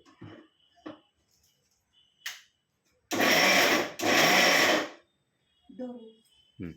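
A kitchen mixer grinder, loaded with coconut pieces, runs loudly in two roughly one-second bursts separated by a brief pause. Voices speak faintly before and after the bursts.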